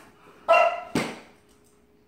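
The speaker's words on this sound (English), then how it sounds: "You could be the first Chihuahua military working dog, Coco." A Chihuahua gives two sharp, high barks close by, then quiet follows.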